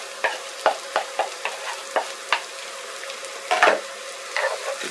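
Peppers sizzle in a frying pan as a utensil stirs them, giving a series of sharp scrapes and clacks over a soft, steady frying hiss.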